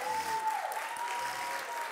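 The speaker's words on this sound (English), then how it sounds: "So give them all a round of applause." A community center audience applauds the judges at the Aviano Idol 2022 singing competition finale, quiet clapping heard from a distance, with a faint sustained tone running beneath it.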